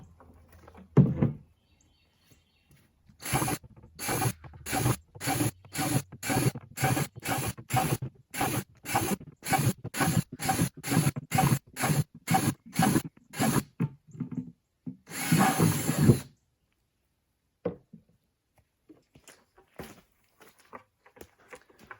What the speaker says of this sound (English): we're going to go ahead and drill some holes into this one right now